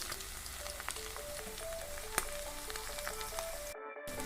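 Pork sizzling and bubbling in a hot pan with oil, a steady close frying hiss with small pops and one sharp crackle, no talk, ending in a brief cut.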